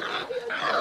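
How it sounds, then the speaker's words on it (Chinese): Puppies on a balcony give short, close whimpers and yips, thin and high, in a quick, slightly broken run. "我们这有三条小狗，"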